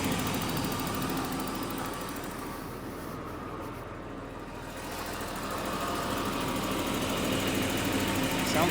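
A swapped-in car engine idles steadily right after an engine swap, a continuous low rumble that holds fairly constant, dipping slightly midway, close by with no talking.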